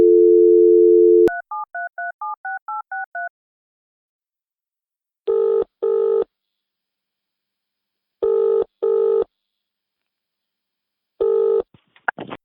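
A telephone call is placed: a steady dial tone, then a quick run of touch-tone keypad beeps, followed by three pairs of ringback tones with silent gaps, and a brief clatter at the end as the line connects.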